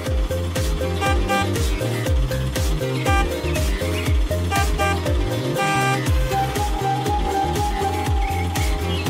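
An auto rickshaw rolls in, its engine chugging steadily with a busy rhythmic beat while the horn toots several times, close and loud throughout.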